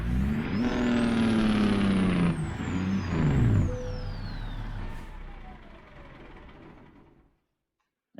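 A Freightliner Argosy truck engine in American Truck Simulator revs up with a rising whine, then the revs fall away as a turbo whistles and hisses, fading out to near silence.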